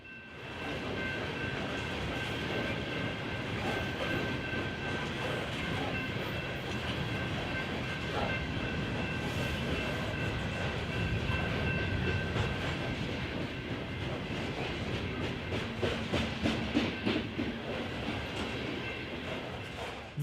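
A southbound BNSF coal train led by a GEVO and an SD70ACe locomotive rolls past steadily, with continuous wheel and rail noise, faint clickety-clack and a steady tonal whine throughout, growing slightly choppier near the end.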